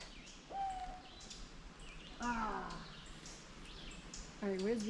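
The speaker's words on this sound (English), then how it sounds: "I know you can hear the owls hooting." Owls hoot in the woods near a pond, a few distinct wavering calls spaced across the moment, moderately near over a quiet outdoor background, with faint talk in between.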